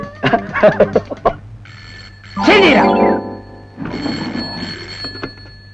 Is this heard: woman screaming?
no